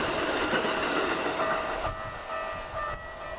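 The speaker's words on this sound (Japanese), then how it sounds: "回送電車速いですね。" An out-of-service train rushes past close by near a station in Kawasaki, Japan, a loud steady roar of wheels on rails that cuts off abruptly, with no voices.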